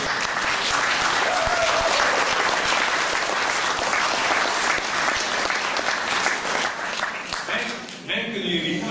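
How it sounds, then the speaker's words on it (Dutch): Sustained, loud applause from an audience honoring museum volunteers at a celebration, dense clapping filling the room for several seconds before tapering off as a voice begins near the end. "Ik vraag nog één keer een heel groot applaus voor iedereen."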